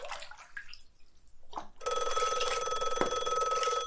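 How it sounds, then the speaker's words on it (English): A landline telephone in a hallway rings with a steady electronic bell tone that starts abruptly after a few faint trickling water sounds and continues loud and unbroken to the end. "The landline rang from the hallway"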